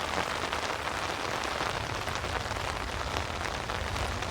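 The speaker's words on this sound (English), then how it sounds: "Pouring down rain, it has been raining." Heavy tropical-storm rain pours down steadily, a dense, even hiss of drops hitting the ground and nearby surfaces, close and continuous with no talking.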